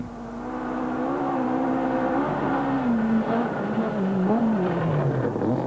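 A Toyota rally car accelerates hard on a rally stage, its engine note climbing and falling through gear changes, loud and steady over a few seconds with no voices.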